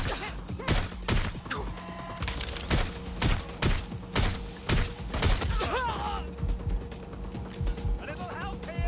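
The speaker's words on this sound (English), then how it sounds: "Suspect is shooting!" Gunfire in Watch Dogs: Legion rings out as a series of sharp, loud shots in irregular clusters, mixed with shouting voices and a background hum.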